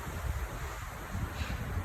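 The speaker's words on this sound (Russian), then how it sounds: "И опять начинается ветер ночью." Night wind blowing steadily outdoors, a broad continuous rushing roar with low gusty rumbles swelling and easing throughout, no voices present.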